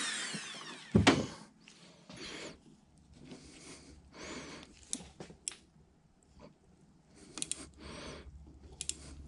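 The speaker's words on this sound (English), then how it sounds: "I'm just using my Dremel with a cutoff wheel to make a new slot" A Dremel rotary tool with a cutoff wheel cuts a new slot into a mangled screw on a milling head, giving a sharp grinding burst followed by intermittent short buzzing cuts, close up and otherwise quiet.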